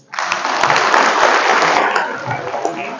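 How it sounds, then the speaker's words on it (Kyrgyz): An audience at a school event in Osh claps together, a dense, steady burst of applause that starts sharply, holds for about two seconds, then thins out with a few scattered claps. "сорго бир кол чаап коелучу."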